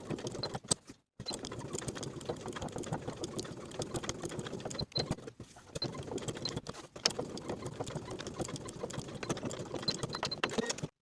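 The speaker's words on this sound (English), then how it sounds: "Place the loop tape within the marking from the pattern piece and stitch in place all the way around." A sewing machine stitches loop tape onto an unlined jacket, a steady, rapid mechanical whirr that runs close and continuously, with short stops near the start and again midway.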